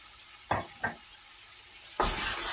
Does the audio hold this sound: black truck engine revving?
no